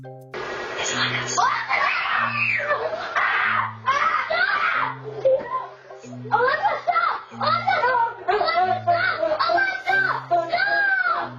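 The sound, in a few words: young boys screaming and yelling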